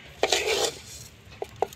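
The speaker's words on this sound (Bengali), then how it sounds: "হালকা আঁচে একটু নাড়াচাড়া করে ভাজতে হবে।" A utensil scrapes and clinks against a pan while half-fried rice is stirred over low heat, giving a few short metallic taps and scrapes close by with no talk.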